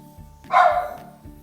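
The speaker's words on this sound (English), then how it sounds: "That's my dog barking in the background." A single dog bark, sharp and moderately loud, standing out over a faint rhythmic low hum.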